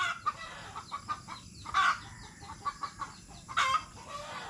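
An agitated farm chicken clucks in a quick string of short, sharp notes, broken by two louder, harsher squawks, close and clear with no talking.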